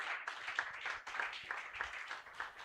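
Audience at a hospital competition award ceremony claps steadily, a crowd of many hands making a continuous patter of applause with no voices over it.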